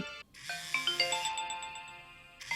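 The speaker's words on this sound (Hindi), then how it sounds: "किसका फोन आ गया?" A mobile phone ringtone plays a bright, repeating electronic melody for a couple of seconds in an indoor domestic drama scene, fairly clear and close, with no talk over it.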